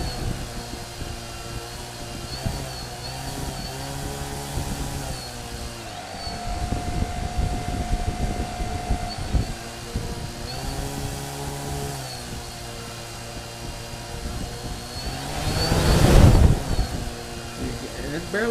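Small motors on a Wltoys V303 quadcopter whir steadily at low throttle, a close propeller drone with shifting pitch that swells briefly near the end, with wind noise and some indistinct handling sounds mixed in.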